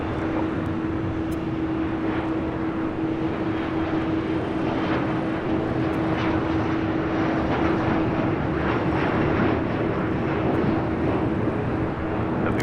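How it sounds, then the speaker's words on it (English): A Delta Airbus A330neo at LAX gives off a steady, moderately distant engine roar with a constant mid-pitched whine held throughout, with no voices. "that Delta A330neo heading over here to the south side was Flight 7"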